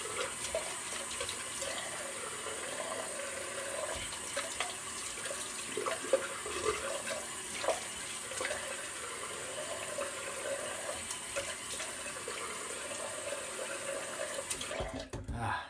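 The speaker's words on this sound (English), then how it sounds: "Nice cold water rinse after a shave." Water runs steadily from a tap for several seconds as a cold rinse after a shave, a continuous rushing hiss with faint splashing, cutting off near the end.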